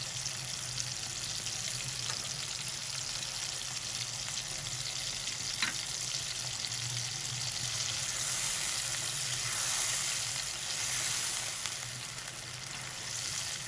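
Steady frying sizzle of ginger garlic paste in a pan, a continuous crackling hiss with occasional faint stirring clinks, no voices.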